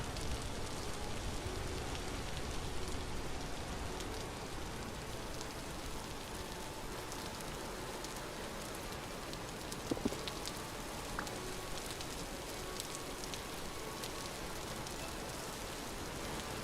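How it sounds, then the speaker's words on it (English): Steady rain falls in the survival game Vintage Story on the north end of an island, a constant dense patter holding level throughout with no voices. "it's just the rain messing with me"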